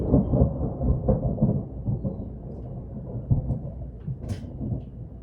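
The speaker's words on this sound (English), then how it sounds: "I'm going to take that as confirmation. Thunder confirmation." Low rumbling thunder rolls on through the whole span, loud and close, with a deep broadband roar that swells and fades and no talk over it.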